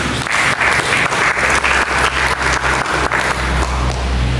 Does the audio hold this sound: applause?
yes